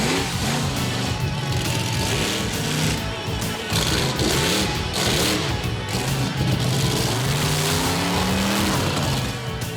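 The Bigfoot monster truck's 1,500 horsepower engine roars loud and continuous, pitch rising and falling as it revs and drives, with a rough, dense mechanical growl throughout.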